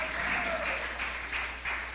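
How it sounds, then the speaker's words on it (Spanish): Congregation in a church service applauding the Lord, a sustained, even burst of many hands clapping together, fairly close and full, with no talk over it. "Denle aplauso al Señor por esa palabra"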